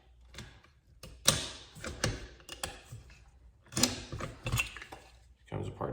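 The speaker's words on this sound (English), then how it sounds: "Now for the field strip, I would push in the takedown pins." Rifle takedown pins pushed in during a field strip, heard as a series of close, crisp metallic clicks and mechanical clacks in irregular bursts, with faint handling noise between them.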